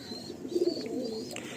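Pigeons coo in a home flock of fancy pigeons kept for sale, several low throaty coos close by, with a faint high chirp and a brief rustle near the end.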